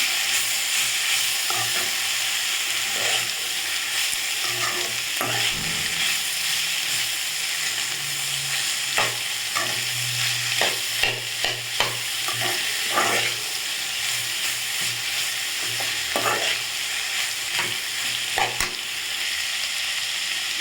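Onions, ginger and garlic sautéing in a pan for hotel-style poori potato masala, with a loud, steady sizzle broken by repeated scraping and clinking stirs throughout.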